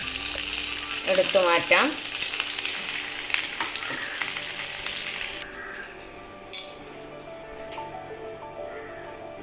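Chicken pieces frying in a pan give a loud steady sizzle, with scraping clinks as they are turned over, then a quieter simmer and one sharp clatter; a voice speaks briefly.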